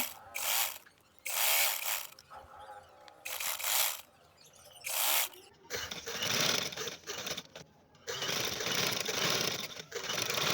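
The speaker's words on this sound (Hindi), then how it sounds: "इस तरह से अब हम इसके किनारों पे सिलाई लगा लेंगे" A sewing machine stitches along the lace edges of a neck design in bursts of fast mechanical whirring and clatter, close and steady, with short pauses between runs and a longer continuous run near the end.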